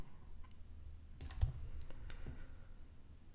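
Faint, sparse mouse clicks on a desk while navigating Houdini 3D software, a few soft taps spread out with one sharper click near the middle, over a low quiet room hum.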